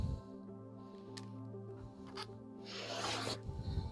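A rotary cutter or scissors slicing quilting cotton into half square triangles: faint scraping rubs near the start, then a louder, longer rasping cut close to the microphone, over a steady low hum.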